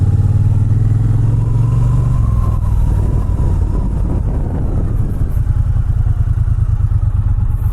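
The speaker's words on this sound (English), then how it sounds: "Just love that little putt-putt sound when you come to a stoplight on one of these" A Triumph Bonneville T120 Gold Line motorcycle idles at a stoplight, its twin engine putting in a loud, steady low rumble close by, rising briefly before settling into an even, rhythmic throb.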